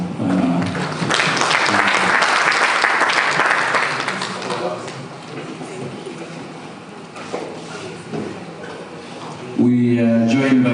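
A conference audience at a real estate and infrastructure event applauds in a loud, sustained burst of clapping that gradually thins out, with voices and a speaker's talk taking over near the end.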